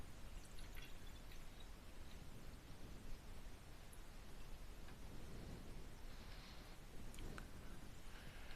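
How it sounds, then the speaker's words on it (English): Milky liquid is poured from a container into a bathroom spray bottle, giving a faint, steady trickling hiss that runs for several seconds with a few soft drips. "let's see if I can pour it without spilling."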